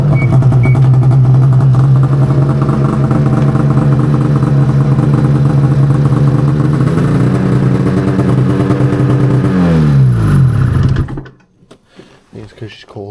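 A cold vehicle engine idling with a loud, steady, close mechanical drone and rhythmic clatter, its pitch dropping as the revs wind down before the engine cuts off abruptly, leaving a few quiet knocks.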